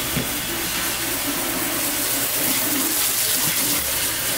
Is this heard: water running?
yes